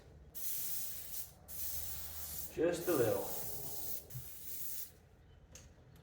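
An aerosol can hisses in several spray bursts, close up, painting a glide bait fishing lure, with a short spoken remark in the middle.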